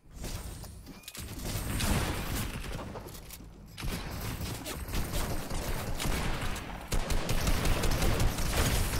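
Rapid gunfire from a shooter video game rattles in dense, overlapping bursts that stay loud and close for the whole stretch, with no talking over them.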